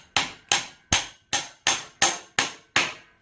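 A hammer knocks a soft metal rod onto a CV joint shaft in eight sharp, evenly spaced metallic taps, each ringing briefly, close and clear with no talking.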